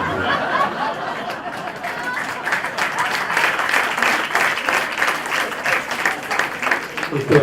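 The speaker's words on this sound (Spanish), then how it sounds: "Esto es lo que llaman un aplauso discriminatorio." A lecture audience breaks into sustained applause, steady dense clapping that swells toward the end, with scattered chatter and light laughter mixed in.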